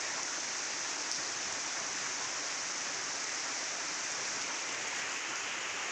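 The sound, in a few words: heavy rain falling outside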